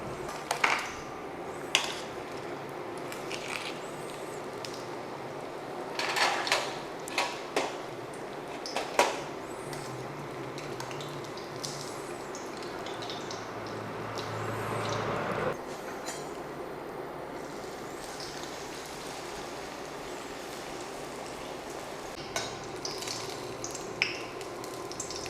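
Lumpianada, an empanada-style spring roll, frying in hot oil at home, giving a steady close sizzle and crackle with a few sharper pops and some clattering of utensils throughout.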